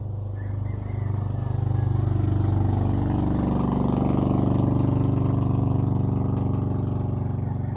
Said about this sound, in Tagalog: lalong lumalakas yung busis ng kuliglig